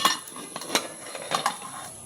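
Taro and sweet potato pieces go into a pot of boiling water, giving a few light, scattered clinks and knocks against the pot at close range.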